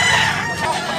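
A rooster crows loudly and close in a long drawn-out call that fills the moment, amid the steady clamor of a chicken market in Tabunok, Cebu.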